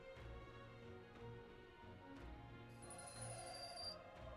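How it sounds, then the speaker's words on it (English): A mobile phone rings faintly with a brief high electronic tone, heard over quiet, steady background game music and no talking. "My phone keeps going off."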